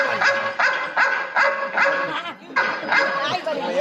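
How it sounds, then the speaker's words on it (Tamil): A dog barks in a quick series of sharp, close barks, about six in a row with a brief pause before the last ones. "நாய் கொலைக்குதா"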